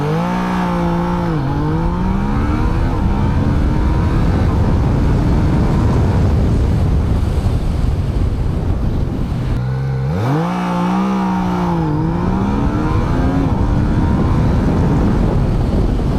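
A Yamaha Niken motorcycle pulls away from a standstill on an open road for a 0-100 run. The engine note rises steadily and loudly through the gears, with a clear shift partway before it climbs again.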